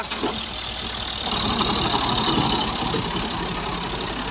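A vehicle engine push-started and running, a loud, steady, rough mid-range roar with a knocking edge, heard close and continuous throughout.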